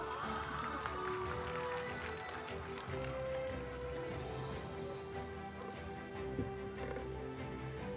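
Sustained audience applause fills a school annual function hall, a dense continuous wash of clapping at steady loudness from start to finish with no voices over it.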